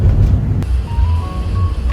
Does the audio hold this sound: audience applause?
no